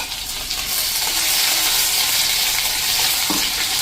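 Chopped garlic and a green chili and ginger paste sizzling in hot oil, a loud, dense crackling hiss with stirring scrapes, close and continuous throughout.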